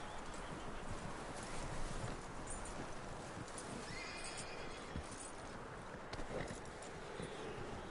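A horse in Red Dead Redemption 2 whinnies and clip-clops at moderate distance amid a faint, busy outdoor background, with hooves and animal noises in place of speech.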